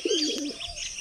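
Pigeons at a loft give a short burst of soft low coos mixed with a few brighter chirps, fairly close and clear, with no voices.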